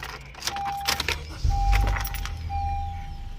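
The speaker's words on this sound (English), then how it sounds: "Starts the car, good to go." A Honda Accord started with a newly programmed factory key cranks briefly and catches into a steady low idle, while a thin electronic chime tone sounds on and off close by.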